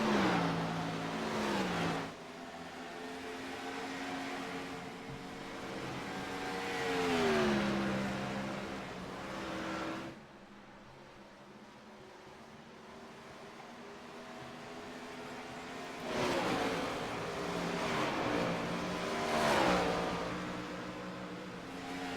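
Race car engines at Dover in a sim racing game, with revs rising and falling as a car drifts out of turn 4, followed by a quieter steady drone and then renewed hard acceleration.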